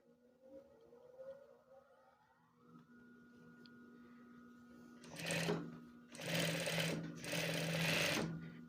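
A flat industrial sewing machine stitches a test seam after threading, a low motor hum rising into loud rapid buzzing bursts of stitching, close by with no talk.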